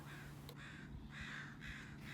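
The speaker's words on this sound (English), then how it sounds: "So many crows landed on that tree behind, and Dudu was stressed." Crows caw from a tree outdoors, several faint harsh calls repeating over a quiet steady background.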